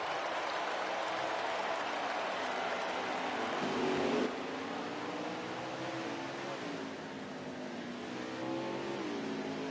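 Xfinity race cars in a sim racing game rev and accelerate off the start of a road race at the Roval, a loud continuous engine drone with rising and falling pitch sweeps as the field pulls away.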